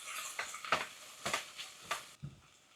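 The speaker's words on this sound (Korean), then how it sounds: "같이 볶아요." Seaweed and meat with garlic being stir-fried together in a pot: a few soft, scraping stirring strokes with faint sizzling, fairly quiet and close, with no voices.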